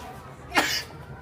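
A single sharp sneeze bursts out over a quiet domestic room, brief and fairly close, with faint background talk around it.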